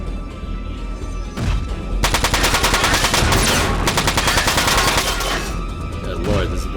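Rifle fire from the video game Front Mission 4, sustained rapid automatic bursts of loud crackling shots rattling for several seconds, thick with overlapping reports amid battle noise.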